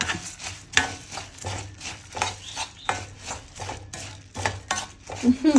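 A spoon scrapes repeatedly through a thick melted jaggery mixture in a pan, giving close, rhythmic strokes about every half second with faint sizzling underneath.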